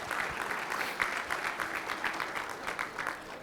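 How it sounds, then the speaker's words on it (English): A breakfast gathering audience applauds a panelist as he comes up, giving brief, steady, moderately loud clapping with no speech over it. "Let's give our brother a round of applause as he comes up"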